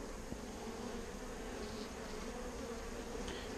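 Honeybees buzz continuously during a hive inspection in Texas, a steady, faint hum of many insects close by, with no talking.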